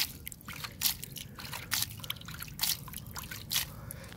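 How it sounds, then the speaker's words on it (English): Rainwater poured from a bucket soaks into the soil of a potted Wacissa mulberry cutting, giving irregular splashing, trickling bursts close up, each spurt followed by soft dripping and no talk. "I got some rainwater right here in this bucket, and I'm just gonna water this in."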